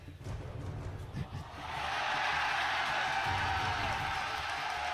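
The arena crowd at a Cloud9 versus TSM NA LCS Spring 2015 esports match swells from murmuring and scattered low voices into a loud, sustained roar of chanting and cheering.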